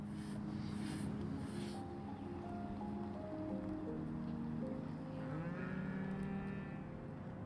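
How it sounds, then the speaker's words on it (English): Retired dairy cows mooing on a farm, several long overlapping low moos one after another, fairly close and clear over a quiet outdoor background. "These are our very, very lucky cows."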